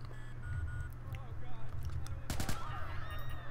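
Gunfire from the Watch Dogs video game, with a cluster of sharp shots near the middle and a few scattered cracks over steady game ambience and a low hum, with people talking at points.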